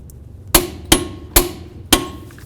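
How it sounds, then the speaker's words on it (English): Four sharp, loud metal hammer strikes, evenly spaced about half a second apart, peening an axle nut on a 1998-2002 Honda Accord driver's side CV axle, each ringing briefly with no talk. "We want to make sure that we peen the nut down into that area."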